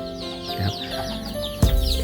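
Baby chicks on a Thai poultry farm peep in a busy, continuous chorus of high chirps, with a louder thump or rustle near the end.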